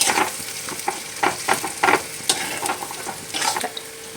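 Chopped onions sizzle steadily in hot oil in a pan at close range, with a bright crackle broken by irregular scraping strokes as they are stirred.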